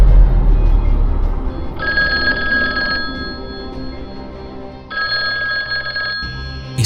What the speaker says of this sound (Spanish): un teléfono que suena sin línea conectada.